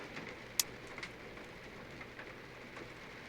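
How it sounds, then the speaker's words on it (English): Rain trickles on a cabin ceiling, a soft steady patter with scattered individual drips and one sharper tap, faint and close, with no talking. "you hear the rain trickling off the ceiling"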